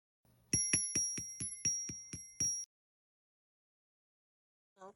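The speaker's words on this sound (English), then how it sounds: "let me bring my bell out" A hand bell rings in a quick run of about eight bright, metallic strikes, then stops abruptly into silence before one faint, short ring at the end.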